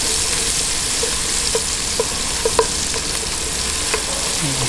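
Onions frying in margarine in a pan, a dense continuous sizzle with occasional soft pops and faint scraping of a stirring spoon, close and fairly loud, no talk.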